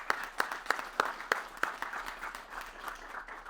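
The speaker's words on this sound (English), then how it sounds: "Just a round of applause for them being here today" Community event audience giving a round of applause, a few sharp rhythmic claps standing out early over a softer crowd patter that fades toward the end.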